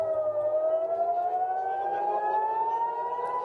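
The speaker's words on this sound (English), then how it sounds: "air raid sirens blaring through the country" Air raid sirens blare across Israel, a loud sustained wail rising slowly in pitch with layered tones, continuous throughout with no voices.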